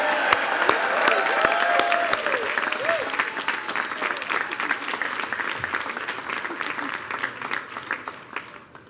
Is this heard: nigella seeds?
no